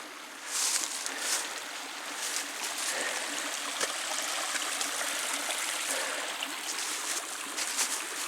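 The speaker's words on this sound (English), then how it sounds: "nice stream flowing right beside here" Steady rushing of a forest stream flowing beside a cabin in Michaux State Forest, a continuous broadband water wash heard close and fairly loud, with no talk.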